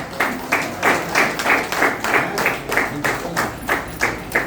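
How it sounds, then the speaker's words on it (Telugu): A crowd at a retirement felicitation function applauds in strong rhythmic unison, clapping together in a regular beat that rises and falls steadily throughout. "అందరు గట్టిగా క్లాప్ కొట్టండి"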